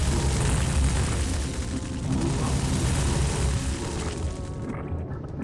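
Rocket explosions boom continuously in the Doom II map The Beating Heart, a dense, loud, unbroken roar of blasts and fire with no clear gaps.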